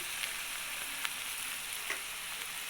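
Garlic and onion paste frying in hot oil for chicken kosha, a faint, even sizzling hiss with a couple of light spoon taps, steady and close throughout.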